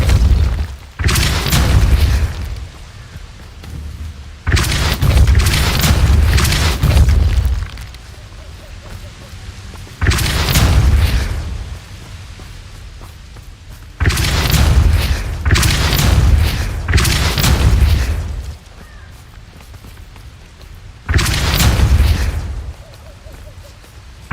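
Depulso spell blasts in the Hogwarts Legacy video game, a series of heavy booming bursts arriving in clusters every few seconds, loud and close with rumbling low end between the impacts.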